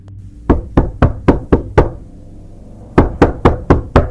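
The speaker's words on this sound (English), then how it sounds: "That same night, the knocking on Gottlieben's house began again, echoing far and wide across the village." Knuckles knock on the door of a village house in two sharp, loud bursts, six raps and then five, evenly spaced and close, with a short pause between them.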